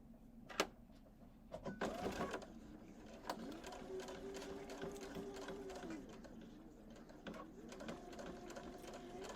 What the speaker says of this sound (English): Put my needle down, do a little lock stitch here, and then I'm going to sew forward.